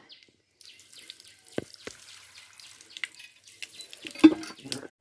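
Water from a hand pump tap runs into a bottle outdoors on a hot, sunny day, heard as faint, intermittent splashes and gurgles that come and go over a few seconds.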